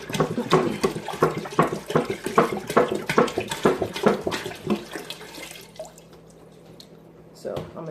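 Two gallons of Brita-filtered water poured into a pot for kombucha, a loud splashing, gurgling stream that pulses for several seconds, then fades to quiet before a short final splash.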